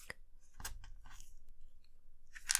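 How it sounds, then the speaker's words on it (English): Foam beads crunch inside slime as it is squished by hand: close, quiet, crisp crackles and snaps in irregular bursts, with no speech. "You hear the foam crunching"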